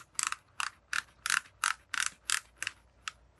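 Ratchet dial on a Dye GSR Pro goggle strap for an i5 paintball mask turning in quick clicks, about ten crisp ratcheting bursts in an uneven rhythm, close and clear with no talking.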